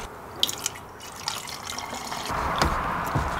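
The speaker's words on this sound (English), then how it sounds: "So let's fill up my bottle." Water running and splashing as a bottle is filled for a Nerf Super Soaker, a close trickling flow with a few drips that swells into a steadier pour toward the end.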